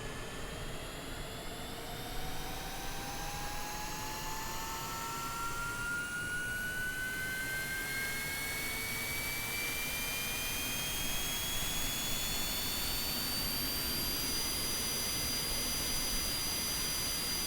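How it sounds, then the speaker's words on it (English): An aircraft auxiliary power unit starts up in a flight simulator, a steady roaring rumble with thin whining tones that climb slowly in pitch throughout, with no talking. "let's get the APU started, because like I said, we're flying a very important passenger today"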